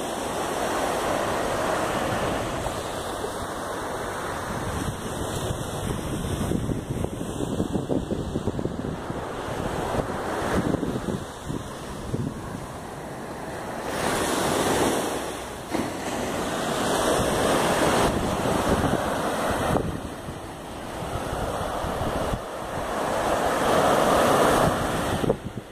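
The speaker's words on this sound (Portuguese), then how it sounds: "Queria mostrar um pouquinho dessa praia aqui de Itapema" Ocean surf rolls onto Praia da Ilhota beach in Itapema, Santa Catarina, as a continuous wash of breaking waves with swelling surges, heavily buffeted by wind noise on the microphone.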